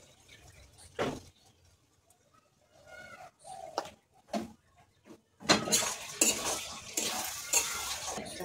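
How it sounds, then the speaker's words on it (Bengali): Chicken kosha is stirred in a nonstick flat pan, with scattered scraping strokes at first, then a louder, sustained stretch of clattering and sizzling as more curry goes in. "এবার নেড়ে দিলাম, এবার তরকারিটা পুরোটা দিয়ে দিই"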